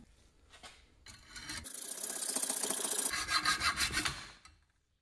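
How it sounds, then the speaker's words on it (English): A hand saw cuts off the sprue of a lost-foam aluminum casting, a rasping back-and-forth stroke building to steady loud grinding, then quick rhythmic strokes near the end before stopping. "I want to cut off that sprue, which is the area that the aluminum flowed into the part."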